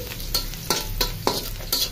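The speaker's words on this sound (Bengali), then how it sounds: "এখন এই যে চুলাইতে কড়াইতে তেল পেঁয়াজ দিয়ে দিলাম।" Onions sizzle in hot oil in a wok, with a steady hiss broken by regular stirring scrapes about every quarter to half second, close and clear.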